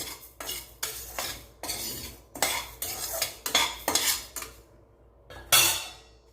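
A utensil scrapes and clatters against a pan as grains are stirred and dry-roasted, in repeated bursts of scraping with short pauses between, close and fairly loud.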